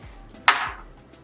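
A single crisp knife chop through an onion on a cutting board, one sharp close thud with a short fading crunch, alone in a quiet kitchen.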